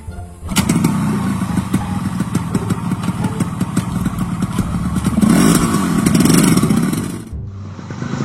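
A new motorcycle's engine rumbles and revs continuously up close, rising louder near the end before cutting off abruptly.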